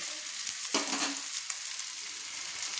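Spices tipped into onions already fried reddish-brown in hot oil for a Bengali chicken curry, giving a steady, close sizzle with a sharp hiss as they hit the pan, then settling into continuous frying.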